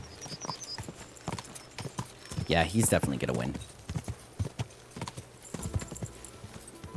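Hoofbeats of a galloping horse in Kingdom Come Deliverance 2, a steady clip-clop rhythm running under a man's excited chatter, with a brief whinny-like cry midway.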